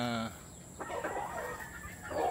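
A gray gamecock rooster clucks in short bursts from close by, with brief quiet gaps between the calls.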